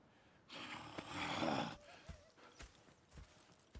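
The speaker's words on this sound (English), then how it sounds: "Go check the horses are ready." Faint, distant horse hooves clop unevenly over a soft rush of ambient noise in the video game Red Dead Redemption 2, with no one speaking.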